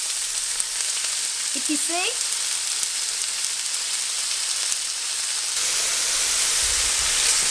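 Thin-sliced cheesesteak meat sizzling loudly on a hot griddle, a dense, steady hiss that swells near the end, with a brief word spoken over it.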